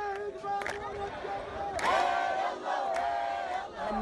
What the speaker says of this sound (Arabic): أعداد كبيرة من الطلبة توافدوا مرددين هتافات رافضة لتكليف محمد توفيق علاوي ومنددة بسلطة الأحزاب الفاسدة